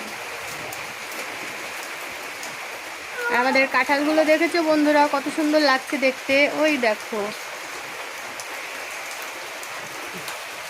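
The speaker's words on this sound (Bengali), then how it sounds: "বাইরের দিকে দেখছে বৃষ্টি পড়ছে জোরে বৃষ্টি পড়ছে না আস্তে আস্তে বৃষ্টি পড়ছে" Light rain falls outdoors as a soft, steady hiss throughout, and a voice speaks over it for a few seconds in the middle.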